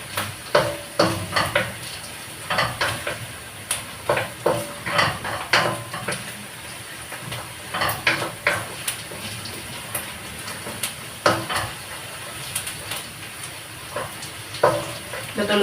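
Garlic and onion sizzle steadily in a frying pan, with frequent near scrapes and clatters of a utensil stirring against the pan over the constant hiss.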